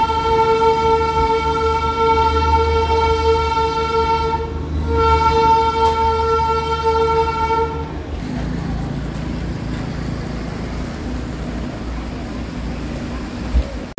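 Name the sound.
Darjeeling toy train ride near Ghum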